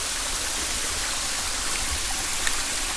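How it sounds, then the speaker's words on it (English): A steady, dense rush of falling water fills the air, a continuous roar of a waterfall near Branson, Missouri, without pauses or voices. "That's the main waterfall."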